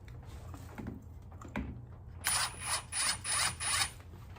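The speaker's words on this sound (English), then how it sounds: "So I like to start the bolts off with the impact." An impact wrench starting bolts on a motorcycle clutch cover: after quiet handling noises, a loud series of four or five short rattling bursts with brief gaps, close to the listener.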